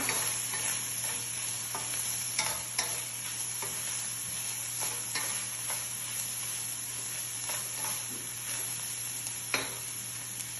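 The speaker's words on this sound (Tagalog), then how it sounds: "Ngayon, na-add ko na itong onion. I-mix ko lang siya." Onion for kofta fries in a pan with a steady, close sizzle, and a utensil stirs it in light scraping taps scattered through the frying.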